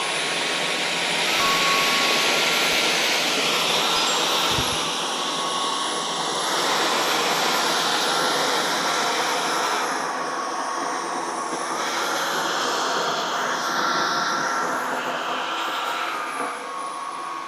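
A Dyson V15s Detect Submarine vacuum cleaner with a fluffy optic hard-floor head runs on a shop's hard floor, producing a loud, continuous high-pitched whine with a shifting airy hiss and no talking.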